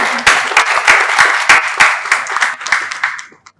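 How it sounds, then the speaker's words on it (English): An audience at a talk on digital skills education in Nigeria breaks into lively applause, a burst of sharp claps that thins out and stops after a few seconds. "you can clap for that"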